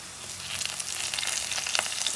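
Two green chillies fry in hot oil for a simple chala mulaku curry, a close and steady sizzle with faint stirring and no talking.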